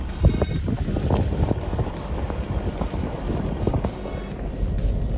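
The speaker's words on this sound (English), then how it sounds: "it's very, very windy" Strong wind buffets the microphone with irregular low rumbling gusts and thumps, loud and close, on an exposed coastal bluff during a 4x4 island trip.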